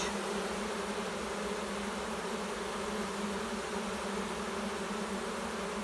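Honeybees buzz steadily at a hive that has lost its queen, a dense, even drone holding close and constant throughout with no voices.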